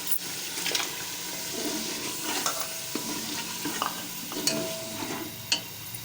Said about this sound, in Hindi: इसी में मैं टमाटर की प्यूरी ऐड कर दूंगी।